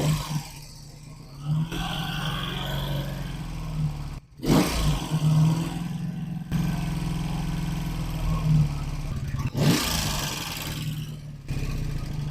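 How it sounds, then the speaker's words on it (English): An engine on a vehicle with a JB Weld–repaired fuel tank, ignition bypass and new radiator is revved repeatedly, uneven surges and dips over a rough idle, close and fairly loud with brief drops between bursts. "Maybe if I just rev it a few more times."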